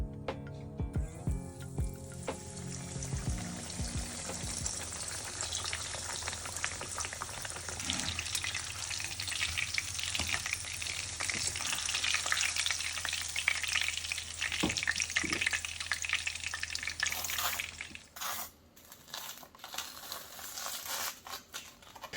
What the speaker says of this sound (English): But fry that in the oil, and then until it's golden brown, flip it